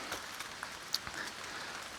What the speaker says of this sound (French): Et donc la pluie du coup s'est mise à tomber